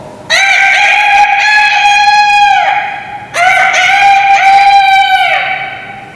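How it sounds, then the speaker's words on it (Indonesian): A rooster crows loudly twice in succession, each long bright call held for over two seconds before tapering off, close by and clear against a quiet background. "Padahal ayam sudah terus-terusan berkokok."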